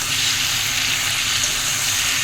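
Rohu fish pieces frying in hot oil together with potato and pointed gourd make a steady, loud, close sizzle that continues without a break and without talking.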